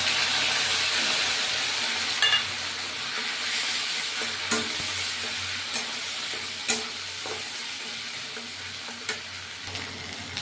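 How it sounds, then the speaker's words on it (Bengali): Vegetable stuffing for kakrol (spiny gourd), seasoned with turmeric and salt, fries in a pan with a steady soft sizzle, broken by occasional sharp clicks and scrapes of a spatula stirring it. "এখন এটা আমি এখানে একটুখানি ভাজা ভাজা করি।"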